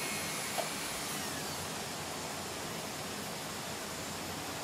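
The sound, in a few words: rotary tool stippling a wooden recurve bow riser at 5,000 RPM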